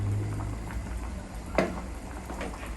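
Chicken thighs simmering in sauce in a pan, a steady low bubbling and sizzle with a few sharper pops and spits, close by and continuous with no talking.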